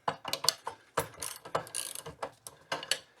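A wrench ratchets on a 24mm nut while loosening the head of a drill press under restoration. The clicks and clunks come close and irregular, metallic and fairly quiet, with no talk over them.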